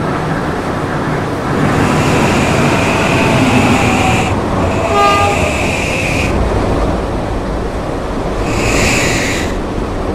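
An R160C subway train rides between stations, its steady rumble and rail roar continuous throughout, with brief tonal squeals and hissing bursts near the middle and again near the end.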